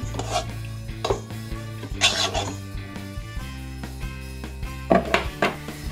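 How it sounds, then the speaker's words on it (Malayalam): Warm milk stirred in a bowl for Swedish cinnamon bun dough, several soft scraping and clinking strokes of a utensil against the bowl, close and fairly quiet, no talk. "ലൈറ്റ് ചൂടുള്ള പാൽ ഒഴിച്ചു കൊടുക്കുക. ജസ്റ്റ് ഒന്ന് മെൽറ്റ് ചെയ്യാൻ വേണ്ടിയിട്ടൊന്ന് മിക്സ് ചെയ്ത് കൊടുക്കുക നല്ലോണം"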